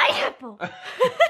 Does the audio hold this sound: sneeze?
yes